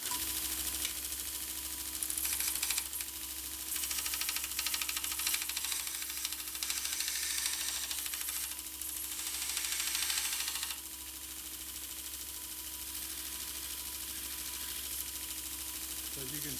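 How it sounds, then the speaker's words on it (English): A homemade belt sander grinder runs steadily, grinding a blade with a continuous buzzing motor hum and rough abrasive rasp, then keeps running more quietly toward the end. "I'll just do a little grinding with it."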